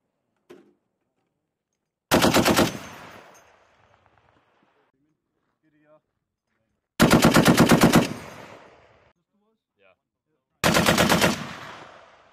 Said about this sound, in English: Reload and then you're gonna shoot the target that's two up from you.